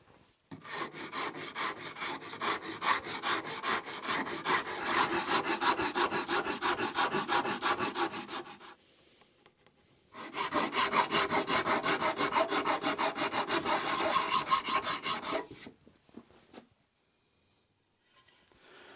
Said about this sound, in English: I'm going to use a half-round rasp and a Shinto rasp.